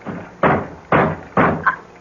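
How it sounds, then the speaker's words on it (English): Three heavy knocks land on a front door as a radio drama sound effect, evenly spaced and loud and close, each with a booming wooden thud and a short decay. "It sounds like someone at the door. At the front door."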